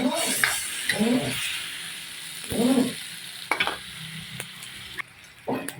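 Shrimp sizzling in a pan with seafood and vegetables, a steady close frying hiss beneath intermittent speech, with a few sharp clicks of utensils against the pan.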